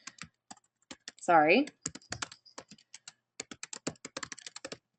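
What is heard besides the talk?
typing on computer keyboard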